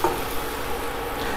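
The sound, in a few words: garlic and shallots frying in a pan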